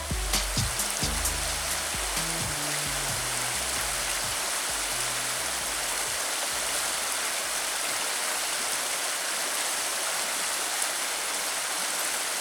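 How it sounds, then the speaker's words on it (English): A creek swollen by side streams and springs rushes through a rainy forest valley in Capital State Forest, a steady, full rush of flowing water heard close up, with a brief low rumble at the start. "the creek slowly swelled in size as side streams and springs drained into the valley"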